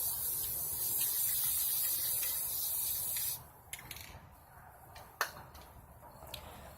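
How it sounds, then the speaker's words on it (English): A steady, close hissing spray of top-coat spray paint runs for a few seconds, then cuts off, leaving faint clicks and light handling noises. "then you're going to spray the top coat on."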